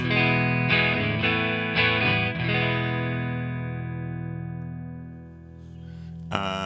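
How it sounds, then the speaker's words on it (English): Clean electric guitar chords through an AmpliTube Mesa Boogie Mark IIC+ amp simulator, struck several times in quick succession, then left ringing and slowly fading before one more strum at the end. "so this should be on a clean channel"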